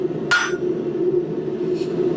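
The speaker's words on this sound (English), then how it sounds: "we are going to hammer out to thin out the material" A blacksmith hammers a thick steel bar on all sides to thin it for a corkscrew: one sharp, ringing strike, then a fainter second blow about a second and a half later, over a low steady hum.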